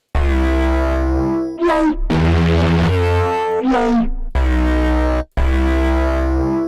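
UVI Mosaiq 1.5 instrument preset played across a keyboard in keyboard mode: a series of loud plucked and struck notes with swelling sweeps and brief gaps between hits, each note sounding different, no talk.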